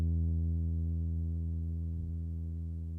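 A single lo-fi bass synth note built in Studio One holds a deep, pure, sine-like tone. It fades smoothly and gradually over about three seconds, alone with no other sound.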